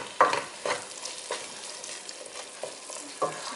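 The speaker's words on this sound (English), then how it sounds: "So I'm just going to mix in all the spices." Spices being stirred into chicken curry in a hot pan: quiet scraping strokes over a steady soft sizzle, with a few sharper clicks of the utensil against the pan.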